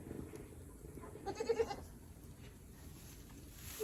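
Farm goats let out a short bleat, a quavering cry at moderate distance over a steady outdoor background.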